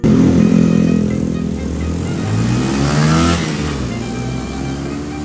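A Suzuki GSX 150 motorcycle engine revs loudly up close during an endurance ride, its pitch climbing and falling through gear changes with a buzzing, harmonic-rich tone, no voices.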